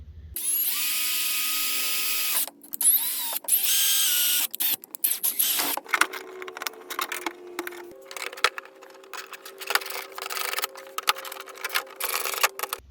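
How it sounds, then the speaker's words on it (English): A power drill bores holes for fitting Z06 Corvette side skirts, loud high whining runs that rise and stop repeatedly, mixed with clattering handling noises and shorter bursts as each hole is drilled. "let's get these holes marked and drilled"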